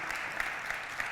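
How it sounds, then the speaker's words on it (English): Audience applause for ASL interpreters at a talk on empathy technology, a soft, even patter of clapping heard from a distance, with a few sharper claps standing out. "So please give a round of applause"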